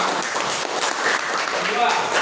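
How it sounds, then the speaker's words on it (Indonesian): Classroom applause for the second student group during a school lesson on clean and healthy living: dense, steady clapping from many children with chatter mixed in, lasting about two seconds. "tepuk tangan untuk kelompok"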